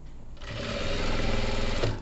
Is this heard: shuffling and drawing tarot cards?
no